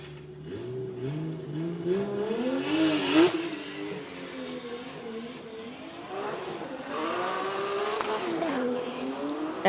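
The number 18 Toyota Supra race car drives at Sochi Autodrom during drift qualifying, with the engine revving up and down continuously and tires squealing, loud and close throughout.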